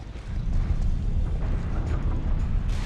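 A grenade explodes in Resistance, a PS3 shooter running on the RPCS3 emulator, producing a single dense, loud blast that swells quickly and then stays as a rumbling roar.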